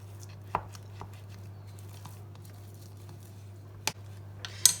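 Spoon working creamy mashed chickpea hummus made from canned chickpeas, giving a few soft scattered taps and scrapes against the bowl over a steady low hum, close and quiet.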